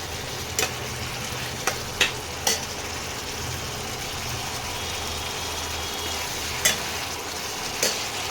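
Pointed gourd curry with lime juice stir-frying in a pan, a continuous close sizzle broken by a few sharp scrapes and knocks of the spatula against the pan.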